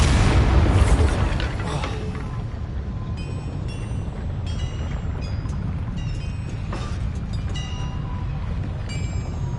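The Bombarda spell exploding in the video game Hogwarts Legacy, a loud booming burst at the start that trails into a rumbling, crackling wash of debris and ambient game sound.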